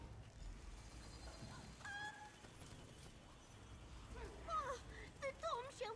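A chicken in the video game Oblivion gives a few quiet, honking clucks and squawks, bunched toward the end over a low background hum.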